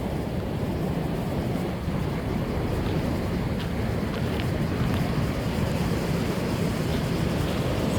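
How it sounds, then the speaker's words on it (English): Continuous broadband roar of ocean surf at a popular Costa Rica surf beach in the early morning, steady and fairly loud with wind buffeting the microphone and no talk. "Very popular beach here in Costa Rica. Lots of people come here super early today. And so all the surfers are out and lots of waves."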